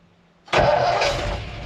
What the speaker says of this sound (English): Let's see if she fires up. Cold start, one pump of the gas.